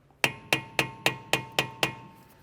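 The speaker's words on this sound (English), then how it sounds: "Just taking a Phillips head and a hammer." Seven evenly spaced, ringing metallic taps as a hammer strikes a Phillips screwdriver against the rotor set screws on a rear brake of a 1999-2005 Porsche 996 911, each hit sharp and close with a short decay, no talk.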